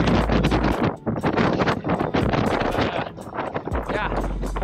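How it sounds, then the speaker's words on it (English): Strong gusty wind on Bear Mountain above Silverton, Colorado, in the San Juan Mountains buffets the microphone in loud, rough bursts, with talking in the middle. "It got really, really windy."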